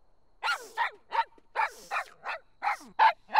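A small dog barks about ten times in a quick, steady series of sharp yips, close by with no other sounds.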